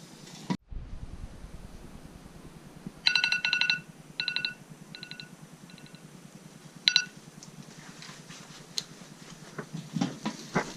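A cooking timer goes off outdoors while trout cooks, sounding a few short bursts of rapid electronic beeping, then a final brief beep, over quiet background noise with no talk.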